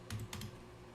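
A few quick keystrokes land on a computer keyboard, typed close up in a quiet room as a short command is entered.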